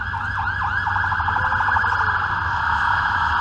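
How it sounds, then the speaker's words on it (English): A police car siren wails along a city street in Toronto's Kensington Market area, loud and close, with rapid yelping warble cycles over steady street noise. "As a police car so rudely interrupts me"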